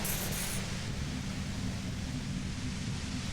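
Steady broadband white-noise hiss in the video game Disco Elysium, dense and unbroken with a low rumbling layer beneath, a brighter burst of hiss at the very start, and no voices.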